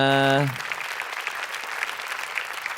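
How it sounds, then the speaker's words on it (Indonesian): Studio audience applauding comedians at an Indonesian stand-up comedy competition preshow, a dense steady wash of clapping that takes over after a brief sustained musical tone at the start and continues loudly to the end. "tepuk tangan buat mereka semua"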